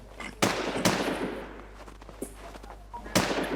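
Gunshots in Warz Infestation, a few loud, sharp single cracks spaced irregularly, two close together early and another after a pause, over a low steady background hum.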